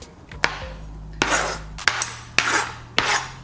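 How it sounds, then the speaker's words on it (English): A kitchen knife slices an eggplant in half on a cutting board, giving about five sharp, close chopping knocks at a steady, unhurried pace, each followed by a short scraping rasp. "All right, so I'm just gonna cut it in half."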